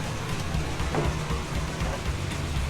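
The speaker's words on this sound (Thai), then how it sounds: "ตอนนี้ฝนเนี่ยมันเริ่มลงมาหนักอีกแล้ว" Heavy rain falling steadily on the Chao Phraya River during a fishing trip, a dense, loud, continuous hiss with a low rumble underneath and no voices.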